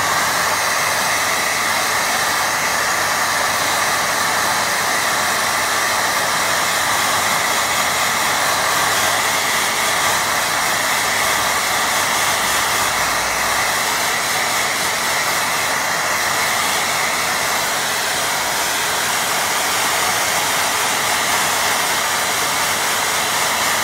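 A hair dryer blowing on a watercolour painting, a loud, steady, close airy roar that holds unchanged for the whole stretch, with no talk.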